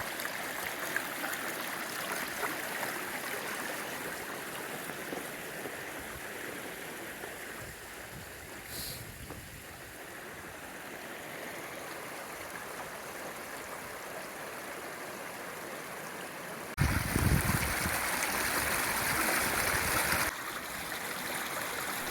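Steady rushing of a flowing creek on the Maryland section of the Appalachian Trail, constant and fairly near, briefly swelling louder toward the end.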